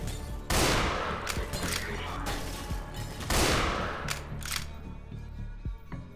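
Rifle gunfire in the video game Swelter sounds as loud, booming shots with rolling echoes, several blasts spread across a few seconds of continuous game noise.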